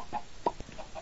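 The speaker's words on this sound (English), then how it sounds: "They're completely normal chickens, but they're just chickens which are growing right above the void." Chickens in a video game, standing above the void, give a few short clucks, close and fairly quiet, with no other sound.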